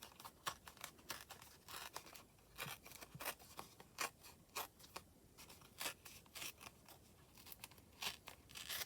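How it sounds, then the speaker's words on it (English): Paper being torn by hand for a junk journal page, a run of sharp crinkling rips and rustles spread across several seconds, close and fairly quiet with no talking. "I think I'm going to tear this"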